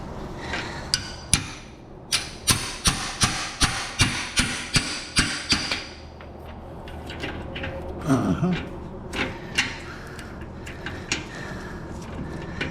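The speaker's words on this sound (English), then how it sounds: "Get my hammer, do my usual, bang it a little bit." A hammer taps a metal exhaust clamp in a quick, steady series of sharp strikes, then stops, leaving quieter shuffling and clanking of handled parts.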